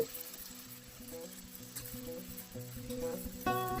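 Chili powder frying in oil for an egg curry with amaranth greens gives a soft, continuous sizzle with some stirring, under a low tonal background.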